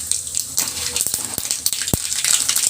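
Mustard seeds crackle and sizzle in hot oil for tempering, a busy hiss dotted with sharp pops and spits that come in irregular bursts, close up with no talking.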